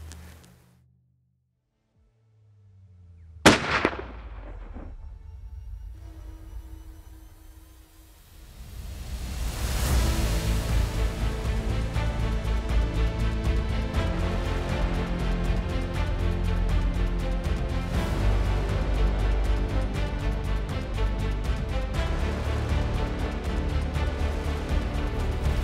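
A single sharp, loud rifle report rings out on a Cape buffalo hunt in the Eastern Cape. It is followed by a pause and then a steady, rumbling wind-like roar that continues to the end.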